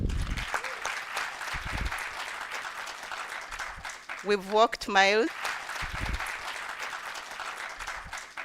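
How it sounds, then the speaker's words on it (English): Audience applause for the Kyambogo university team at a debating championship in Kampala, a continuous wash of clapping that carries on beneath a speaker's voice, which briefly rises louder over it midway. "Can you clap for Kyambogo?"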